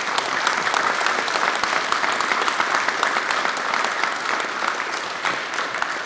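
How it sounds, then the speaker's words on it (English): A crowd at a San Francisco mayoral press event gives dense, sustained applause for the mayor, a steady close roar of many hands clapping with no talk over it. "I think this mayor deserves a round of applause."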